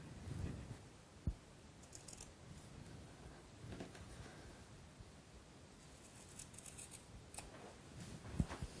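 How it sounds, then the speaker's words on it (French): Scissors snip the bottom corners of fabric lining and outer cloth while sewing a storage bag, a few faint, close, sharp cuts separated by soft rustling. "avec la paire de ciseaux, on vient couper les angles bas de la doublure et également de la partie extérieure."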